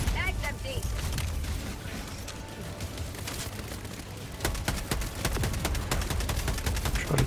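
Helldivers 2 combat against Automatons on a PS5 brings rapid bursts of gunfire and sharp repeated shots, loud and close, with a player talking over the action at times.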